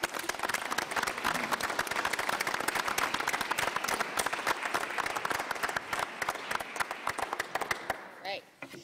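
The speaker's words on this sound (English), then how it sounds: "Please join me in giving them a round of applause for all their hard work and efforts" A school board meeting audience breaks into applause for district staff, dense sustained clapping from many people filling the room for several seconds before tapering off, with a voice briefly heard near the end.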